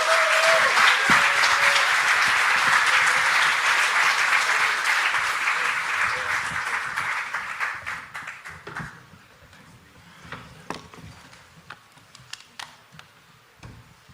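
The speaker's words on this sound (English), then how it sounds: "Can we get a really warm round of applause?" A conference audience at a Nostr event gives a warm round of applause, loud and dense at first, then fading after several seconds into scattered individual claps and quiet.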